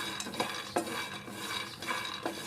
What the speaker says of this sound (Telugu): ముందుగా తీసుకుని ఒక కప్పు వేపిన పప్పు వేపుతున్నాను